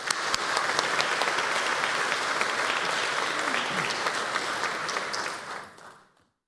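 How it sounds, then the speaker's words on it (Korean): Church congregation at Wondong Church applauding the children during a Sunday service, steady sustained clapping from a large crowd filling the room at even loudness before fading out at the end. "이제 한 번 더 인사할 때에 우리 크게 힘내라고 박수 치겠습니다"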